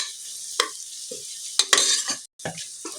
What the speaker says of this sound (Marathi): आपण गॅस स्लो वरती ठेवली आहे कारण की ऑनियन प्रॉपर शिजला पाहिजे पुलावसाठी।